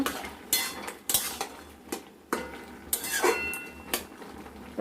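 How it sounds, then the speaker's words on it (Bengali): A utensil stirs taro greens in a pan after salt is added: irregular scraping and clattering strokes against the metal, close and moderately loud, with a faint sizzle underneath. "লবণ দিয়ে নাড়াচাড়া করব।"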